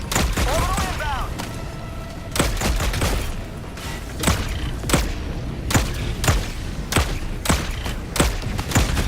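Orbital strike explosions in the video game Helldivers 2 land as a string of sharp, heavy booms and thuds spread unevenly over several seconds, loud against a rumbling battle background with a brief whistling sweep near the start.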